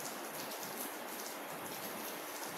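Steady rain falls on a surface outdoors, a dense, even hiss of drops that is close and continuous with no voices.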